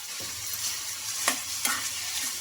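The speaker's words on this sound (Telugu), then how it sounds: "ఇంకా సాల్ట్ వేసుకొని ఒకసారి మొత్తం బాగా కలిపేసుకున్నాను" Tomato pieces with salt stirred in a frying pan for chutney, a steady close sizzle with a few soft spatula scrapes and taps over it.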